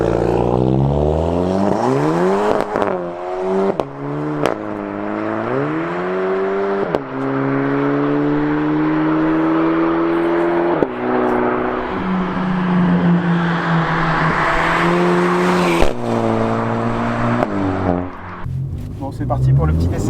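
A VW Polo 6 GTI with a custom stainless exhaust accelerates hard with wheelspin. Its engine note climbs repeatedly through gear changes, loud and close, while people talk over it.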